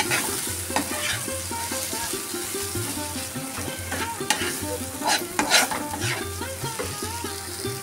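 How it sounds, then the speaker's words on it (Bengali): Gobindobhog rice frying with spices in a pan over low to medium heat, a continuous close sizzle broken by frequent scraping stirs and occasional clinks of the utensil against the pan. "এখন আমি ভালো করে ভেজে নিচ্ছি, আঁচটা লো টু মিডিয়াম করে।"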